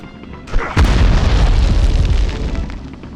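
A grenade blows up in the Medal of Honor video game, a sudden loud boom followed by a long rumbling, crackling tail that slowly fades.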